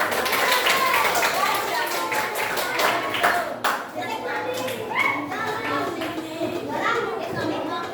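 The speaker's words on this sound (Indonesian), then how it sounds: "Silakan berikan tepuk tangan untuk" A class group applauds a presenting team in a school setting, with brisk clapping mixed with children's chatter and voices throughout, moderately loud and close.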